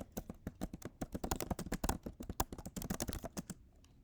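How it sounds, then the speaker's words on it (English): Quiet, close typing on a computer keyboard, irregular clusters of key clicks tapping for a few seconds before stopping. "I'm going to type my question in or paste it in if you already have it somewhere else."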